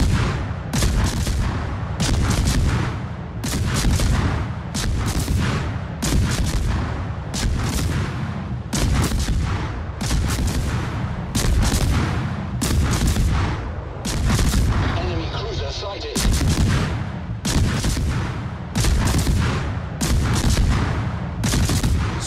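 Naval guns on warships in a video game firing in a regular rhythm of heavy booming salvos, each loud blast followed by a short decay, continuing steadily across the stretch.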